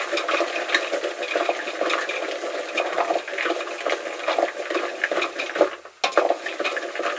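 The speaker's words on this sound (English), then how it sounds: "Stir, stir, stir." Sugar syrup with groundnuts gets stirred in a pot, a continuous rhythmic scraping and rattling of nuts against the pot's sides, close and steady with a brief pause near the end.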